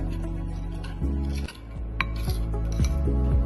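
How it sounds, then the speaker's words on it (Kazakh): A spoon stirs a small mixture of water, garlic, olive oil and ginger in a bowl, giving a few light clinks and scrapes against the container, close and quiet, with no talking. "Араластырамыз."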